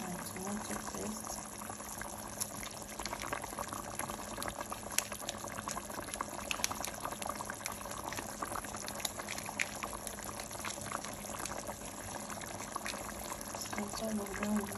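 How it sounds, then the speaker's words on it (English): Blended fresh tomatoes, pepper and onion sizzle and bubble steadily in a pot, a continuous crackling, boiling texture with a voice speaking over it. "While our blended fresh tomatoes, fresh pepper, and onion is frying"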